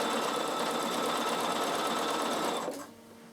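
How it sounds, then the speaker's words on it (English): A Bernina sewing machine runs steadily stitching a straight 6mm seam, a fast even mechanical whir that holds close and loud for about two and a half seconds before stopping abruptly. "I'm just sewing straight up a 6mm seam"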